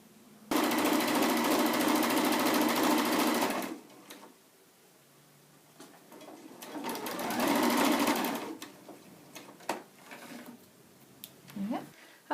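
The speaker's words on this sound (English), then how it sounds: "And we're now ready to stitch these into place along the top." A sewing machine stitches tote bag pieces in two loud, steady runs of rapid mechanical whirring close by, separated by quieter pauses with light handling sounds.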